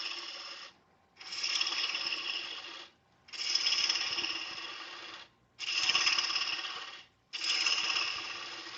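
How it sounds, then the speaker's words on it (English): An oak maraca handle being roughed out on a wood lathe gives a rough scraping rasp, heard in four long bursts separated by short pauses as the tool meets and leaves the spinning wood. "So now I'm just going to start roughing out the handle and getting rid of a bunch of the waste wood"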